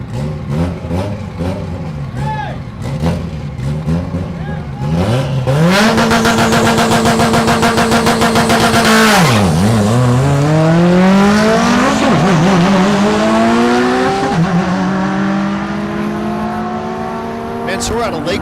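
A Corvette drag race car from Houston launches down the strip at Thunder Valley in Noble, Oklahoma. Its engine revs hard, then roars loudly through rising gear pulls, with an announcer talking over the early part.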